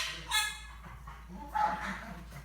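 Dogs bark a few times nearby, short barks and yips over a low steady hum, with a voice faintly heard between them.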